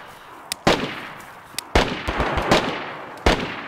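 Gunfire in a shooting video game, four sharp cracking shots spaced about a second apart, each preceded by a faint click, loud and close over quiet background.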